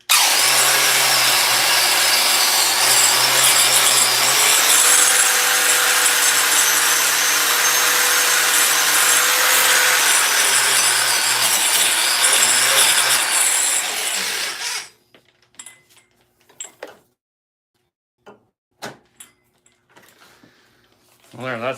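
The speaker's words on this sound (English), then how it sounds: "one more little grind here" A power grinder works steadily on a steel axe head for about fifteen seconds, a loud continuous abrasive whine, then cuts out, leaving quiet with a few faint knocks and handling sounds.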